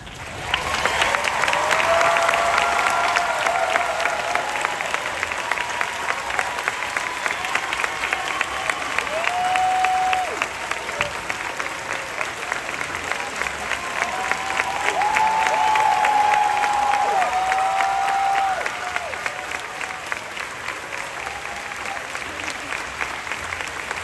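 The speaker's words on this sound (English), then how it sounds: "Keep that applause going." Sustained applause from a large crowd at Disney's Hollywood Studios 35th Anniversary Ceremony, loud and continuous, with occasional whoops and cheers rising above the clapping.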